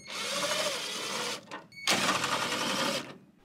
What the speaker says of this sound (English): I used a 5/32 inch hex bit to remove the two screws from the top of the battery compartment